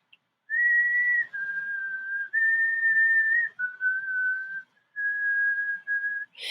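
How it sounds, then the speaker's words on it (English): A girl whistles a slow, simple tune of long sustained notes, clear and close, with short pauses between phrases. "she began to whistle"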